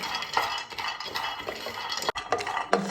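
Almonds roasting in a pan give off continuous light rattling and scraping, with small clinks of a utensil tossing the nuts, steady and close, and a brief pause partway through.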